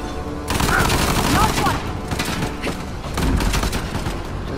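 Rapid bursts of gunfire in Uncharted: The Lost Legacy, dense volleys with short pauses filling the whole stretch, loud and close, with no talking over them.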